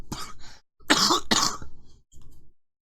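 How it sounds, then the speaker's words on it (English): A few harsh coughs and throat-clearing bursts, close to the microphone, separated by short pauses with no talking. "I'll try to edit that coughing out as best I can."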